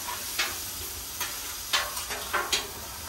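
Steak and garlic sizzling on a Blackstone griddle, a constant close hiss of frying with several soft scrapes and taps of a spatula spread across the moment, no talking.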